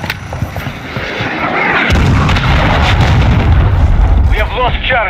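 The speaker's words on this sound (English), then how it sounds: "Hostile cruise missile launched." A hostile cruise missile explodes in Modern Warfare 2 multiplayer Domination on Zarqwa Hydroelectric, a loud sustained rumbling blast that builds partway through and rolls on under battlefield noise and radio voices.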